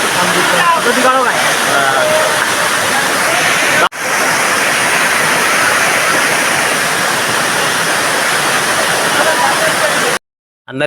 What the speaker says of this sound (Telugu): మధ్యలో మనకి వాటర్ ఫాల్స్ కనిపిస్తూ ఈ వాటర్ ఫాల్స్ దగ్గరికి ప్రస్తుతం మనం వెళుతున్నాము